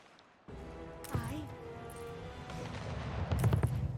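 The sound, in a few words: ship cannons firing in Anno 1800 video game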